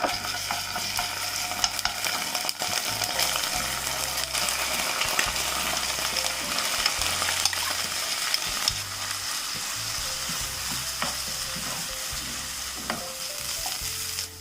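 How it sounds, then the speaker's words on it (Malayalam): Chopped onion and ginger-garlic paste sizzle steadily in hot oil in a pan, with a spatula scraping and stirring at intervals. A low hum sits beneath the close, continuous frying. "സവാളയും കൂടി ഇട്ട് വഴറ്റി കൊടുക്കാം."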